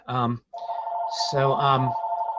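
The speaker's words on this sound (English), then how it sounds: "I'm muted because my phone just started ringing" A telephone rings with a steady electronic tone during an online class, sounding close and continuous while a voice talks over parts of it.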